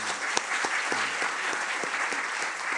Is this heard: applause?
yes